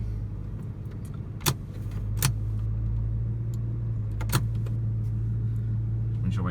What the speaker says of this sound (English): Love the sound of the engine.